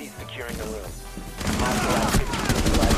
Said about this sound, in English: he's got a machine gun now